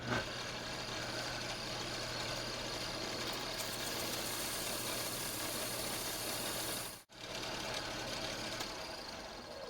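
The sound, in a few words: belt sander flattening and shaping a lure piece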